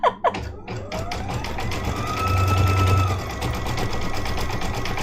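An embroidery sewing machine stitching a photo ornament: a couple of sharp knocks at the start, then a steady fast mechanical whir with rhythmic needle tapping, close and continuous, swelling slightly midway.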